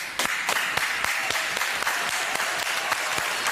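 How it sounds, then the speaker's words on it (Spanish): A TV studio audience applauds steadily, many hands clapping in a dense burst that continues evenly for a few seconds, fairly close. "Un aplauso para él."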